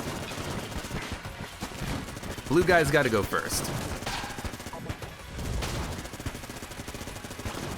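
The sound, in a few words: Vulcan cannon firing in Enter the Gungeon video game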